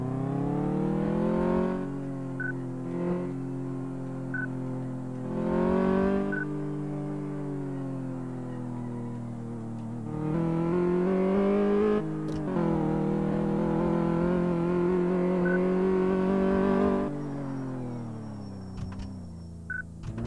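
A car engine on a test drive in Car Mechanic Simulator 2014, droning and revving up and down through gear changes, with brief tire squeals, loud and continuous with no talk.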